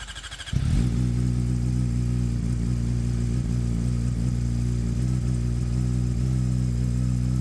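A rebuilt race engine fires up after an engine swap and settles into a loud, steady running drone close by, with small throttle wobbles and no talk.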